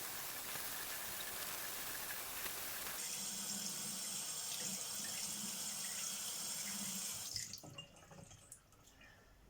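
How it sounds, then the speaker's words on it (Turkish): Tap water runs steadily into a sink while a face is washed with foaming cleanser, the flow loud and continuous, then it cuts off near the end, leaving a few faint drips and rustles. "Evet yüzümü yıkadım."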